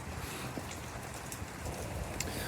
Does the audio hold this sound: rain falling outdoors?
yes